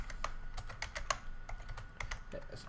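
Rapid clicks of a computer keyboard as someone types Python code, a steady run of close, crisp keystrokes with short pauses and no talking.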